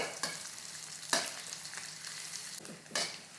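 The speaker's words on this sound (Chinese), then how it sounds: "吊片呢也是要炒一炒香的也是要爆一下的" Dried squid slices, ginger and dried chili stir-fried in hot oil give a continuous close sizzle, broken by several sharp scraping stirs of the spatula, with nobody talking.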